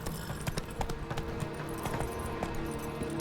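Hoofbeats of the horse Roach galloping in The Witcher 3, a rapid steady clip-clop rhythm over ambient game sound and faint music, close and continuous with no talking.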